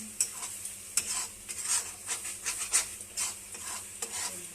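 Spoon stirring a fish curry masala mixture with masoor dal in a pan, soft repeated scrapes and clinks over a faint sizzle, close and fairly quiet, without talk.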